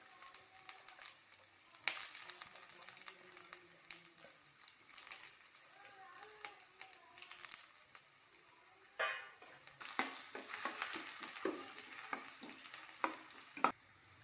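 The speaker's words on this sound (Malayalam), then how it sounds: "കടുക് പൊട്ടി വന്നപ്പോൾ ഞാൻ അതിലേക്ക് ഒരു 5 ടീസ്പൂണോളം ഇഞ്ചി കൊത്തി അരിഞ്ഞതാണ് ഇട്ട് കൊടുക്കുന്നത്" Chopped ginger and popped mustard seeds sizzle in hot oil, with broadband frying hiss, scattered sharp crackles and pops, and occasional stirring clatter throughout.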